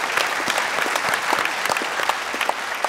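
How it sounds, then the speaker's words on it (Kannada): Dense, steady applause from a studio audience on a Kannada TV game show, honoring a laughing star, with many overlapping claps sustained at an even level throughout. "ಜೋರ್ ಚಪ್ಪಾಳೆ ಲಾಫಿಂಗ್ ಸ್ಟಾರ್ ಸಂಜನಾ ಅವರಿಗೆ"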